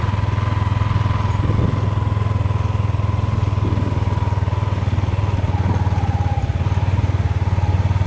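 A motorcycle rides along a narrow single-lane path with its engine running loud and steady and close by, a continuous mid-pitched drone with light clatter and no talking.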